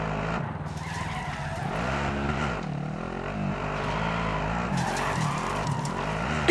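A car in the Call of Duty: Modern Warfare video game drives hard and skids, with steady engine roar and tire screech running throughout over a continuous game soundscape.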